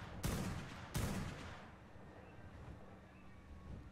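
Two sharp gunshots fire in quick succession in the modded survival game ARK Primal Fear, each loud burst trailing into a decaying echo over a faint wind-like background, with no voices.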